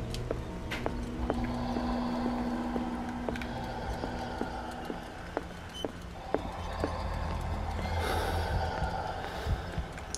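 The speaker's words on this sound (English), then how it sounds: "This guy's breathing is getting louder." Creature breathing heavily in the Call of Cthulhu video game, repeated snorting breaths with sharp clicks and thuds around them over a low ambient rumble, growing louder toward the end; no voices.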